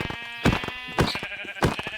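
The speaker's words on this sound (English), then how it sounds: "Kill that sheep! Kill that sheep!" Sheep bleating in the Minecraft video game, three short nasal bleats spaced about half a second apart, loud and close over a faint game background.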